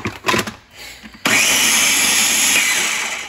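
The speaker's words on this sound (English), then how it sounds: "So now I'm just gonna blend this up." A few soft knocks and movements, then a Ninja blender blending hot sauce kicks on abruptly with a loud, steady high-pitched whir that runs to the end.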